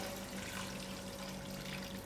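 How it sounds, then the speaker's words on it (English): Faint water trickles and splashes steadily as a cup of water is poured into a pot of mutton curry, with a low hum in the background. "I'm going to add in another cup of water"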